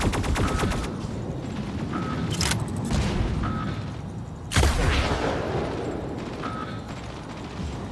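Gunfire and blasts in the Mech Arena video game, repeated rapid weapon volleys and booming impacts with a heavy explosion midway, loud and layered.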